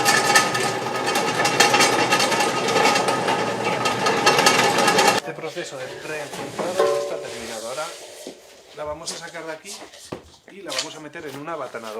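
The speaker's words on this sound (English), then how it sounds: "This machine spins and makes the piece hit itself." A fulling machine tumbles a wool textile piece so it strikes itself, giving a dense, loud, steady mechanical clatter and rumble for about five seconds before it drops back and someone talks over quieter machine noise.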